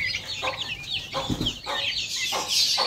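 An Aseel hen clucks while walking with her chicks, giving a few spaced low clucks close by amid high peeping from the chicks and soft farmyard background.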